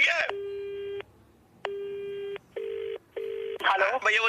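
Telephone ringback tones on an outgoing call in a Red FM radio prank, a steady buzzing tone pulsing in two long bursts then two shorter ones, with brief voices breaking in at the end.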